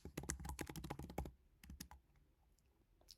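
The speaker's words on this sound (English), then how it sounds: "I'm going to start typing in that course." Typing on a computer keyboard, a rapid burst of close, crisp key clicks for over a second, then a pause and a few scattered final taps, fairly quiet.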